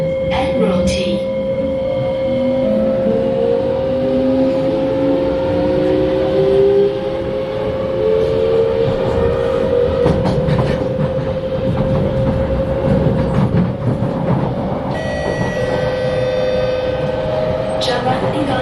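An SMRT KHI C151 metro train accelerates, its rising motor whine and rolling rumble building steadily and loud from close inside the carriage, with brief chimes near the end.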